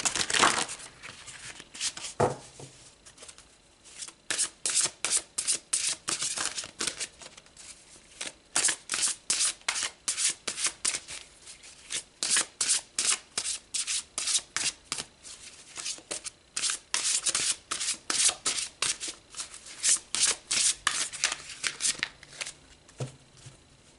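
Tarot cards shuffled and pulled from the deck, a long run of quick, crisp papery riffles and slaps close to the listener, loud and continuous with brief pauses, no talking.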